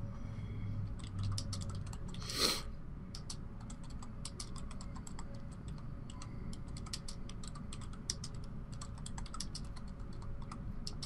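Rapid, continuous clicking of keys on a computer keyboard, fairly close and steady, with one brief louder clack near the start and no speech over it.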